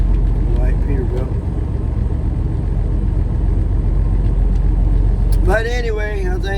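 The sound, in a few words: white Peterbilt truck engine idling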